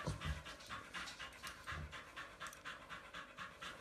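Dogs pant rapidly and steadily throughout at close range, a soft rhythmic huffing with no talk.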